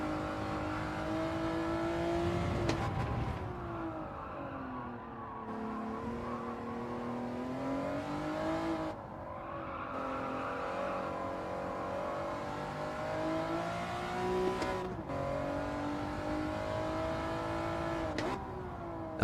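A race car engine in a racing video game revs steadily and shifts through gears, with the pitch climbing and dropping in repeated surges, moderately loud and continuous, no talking.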